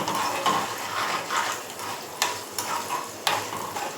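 Turmeric frying in hot oil for pulihora, a steady close crackling sizzle with a few sharp ticks and light utensil knocks scattered through it, moderately loud and without any voices.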